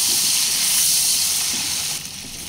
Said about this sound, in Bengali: এভাবে নেড়ে চেড়ে ঢাকা দিয়ে দিয়ে আলু সিদ্ধ হয়ে আসা পর্যন্ত ভেজে নেব।